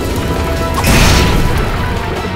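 A boss in the video game Ys: The Oath in Felghana breathes fire with a loud, roaring, broadband blast. It swells suddenly near the midpoint and then rushes on steadily with no talk over it.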